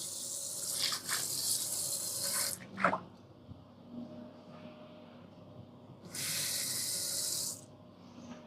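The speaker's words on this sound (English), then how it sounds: "I'm just washing my pan." Water runs into a kitchen sink while a pan is washed, two long gushing bursts of tap water with rubbing and clattering between them, fairly close and with no talk.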